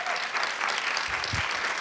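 Conference audience applauding three presenters after a series of TED-style talks, a dense steady burst of many hands clapping together, close and fairly loud, with no voices over it.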